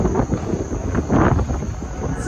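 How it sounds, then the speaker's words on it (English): Wind gusts across an open cruise ship deck on Royal Caribbean's Freedom of the Seas, blowing at about 17 mph near hot tubs and a big outdoor movie screen, a steady broadband rumble with a stronger buffet midway. "It's windy, 17-mile-an-hour winds."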